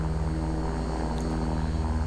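A King Air 350 twin turboprop taxis in the X-Plane 11 flight simulator, its propellers producing a steady, close, throbbing hum with a faint high whine on top, continuous and without speech.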